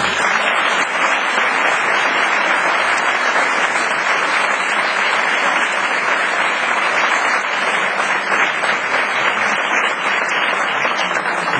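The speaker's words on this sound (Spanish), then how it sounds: "un fuerte aplauso para ellos" An audience at a book festival applauds, a dense, even wash of many hands clapping that holds steady and loud for about twelve seconds with no pauses.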